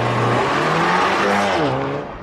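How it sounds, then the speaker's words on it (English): A 2023 Porsche Macan T with a 2-liter turbocharged four-cylinder launches hard, its engine roaring and climbing through rising revs with audible gear changes, loud and close, then easing slightly at the end. "Super hard launch, and then it's not like the fastest to 100 or whatever."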